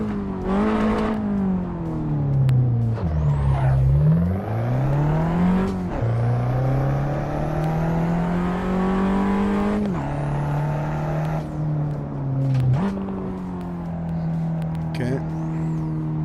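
A race car engine in the sim racing game Assetto Corsa revs up and down through gear shifts, a loud steady drone climbing in pitch, dropping sharply at each shift, then climbing again with a brief high whine.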